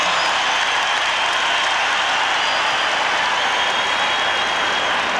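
A basketball crowd at a 1993 NBA playoff game between the Bulls and the Cleveland Cavaliers applauds in a steady, dense wash of clapping and cheering that holds evenly throughout, with no clear voice above it.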